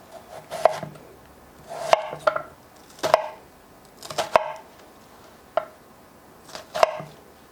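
A knife chops through carrots on a cutting board in slow, separate strokes, each a crisp thunk, about nine cuts spaced evenly.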